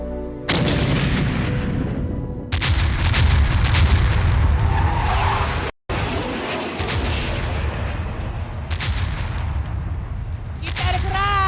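Cannons fire in an animated battle, heavy booming blasts and rumbling volleys in quick succession, with one brief cutout midway and shouted voices mixed in.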